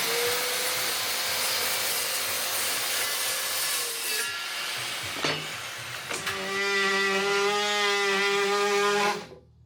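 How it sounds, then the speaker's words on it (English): A power saw cuts notches into OSB board in long loud passes, pausing briefly around the middle before a final tonal whine of cutting that stops abruptly. "Time to use the saw."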